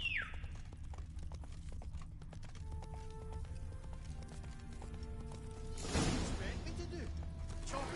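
Horse hooves clip-clop steadily in The Witcher video game, a faint, regular beat under background sounds, with a louder noisy burst near the end.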